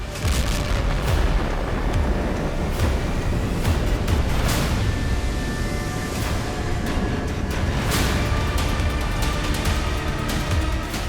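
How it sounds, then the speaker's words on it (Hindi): Heavy booming blasts rumble continuously with sharp cracks scattered throughout, loud and dense, as an explosion destroys a building at a Russian airfield in Kursk. "ड्रोन कैमरे में कैप्चर होने के चंद मिनटों बाद यहां जोरदार धमाका हुआ।"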